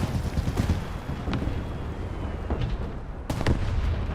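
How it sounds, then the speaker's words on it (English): Armored vehicle gunfire in the War Thunder game, a BMP firing amid a battle: several sharp reports, one near 1.3 s and a louder burst around 3.3 s, over constant rumbling wind-like battle noise, with no voices. "That sounds like a BMP."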